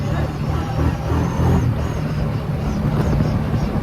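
A 2022 Kawasaki Brute Force 750 ATV engine on an evening ride, a steady low droning rumble with wind noise, close and continuous throughout.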